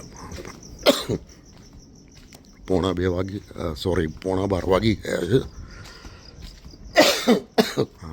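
A few sharp coughs, first alone and then again after a stretch of talking, close to the listener.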